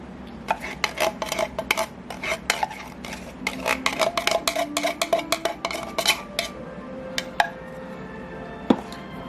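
Sweetened condensed milk being mixed in a bowl for pumpkin pie ice cream, giving a run of quick, fairly close utensil clicks and taps against the bowl with brief pauses, and no talking.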